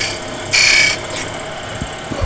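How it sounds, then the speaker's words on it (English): A small skew chisel undercuts spinning wood on a lathe while turning a miniature bird house, giving a brief bright scraping hiss over a steady motor hum, followed by a couple of light knocks. "I need to undercut that slightly so that I don't have a complete flat surface there. And I'm just using a small skew for this."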